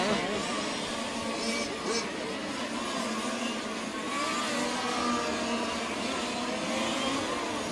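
A 1/5 scale RC race car at a world championship event drones past with a steady, high-pitched engine whine, continuous and fairly distant under the race ambience.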